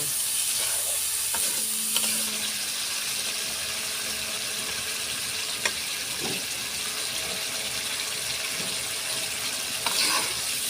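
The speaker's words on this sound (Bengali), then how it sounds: "দিয়ে সুন্দর করে লাউটা মশলার সাথে কষাই নিব" Bottle gourd pieces sautéing with spices in a pan give a continuous hissing sizzle, with occasional soft scrapes and clinks from stirring and no talking.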